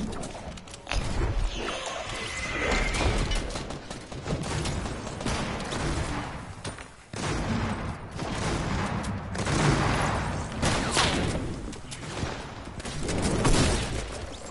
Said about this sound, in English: someone's shooting at it